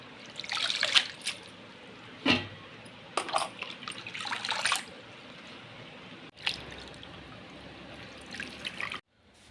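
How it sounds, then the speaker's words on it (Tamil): Water sloshing and trickling as sorrel leaves (puli keerai) are rinsed by hand to wash off soil, in uneven splashy bursts with brief dripping pauses, close and fairly quiet. "புளிச்சக்கீரை இந்த மாதிரி தண்ணியில் மண் இல்லாமல் சுத்தம் செஞ்சு அலசிடுவோங்க"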